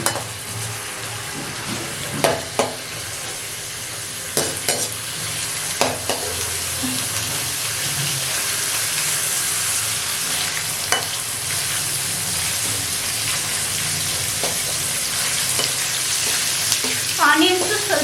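Onions fry in oil with mustard seeds and curry leaves, a loud continuous sizzle broken by occasional spatula scrapes and clinks against the pan, with a faint voice briefly in the background.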